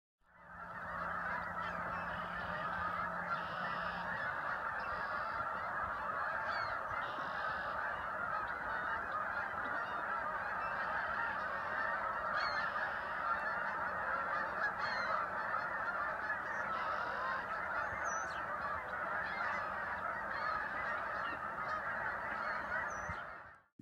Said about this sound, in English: thousands of geese in these huge flocks all descending onto the bay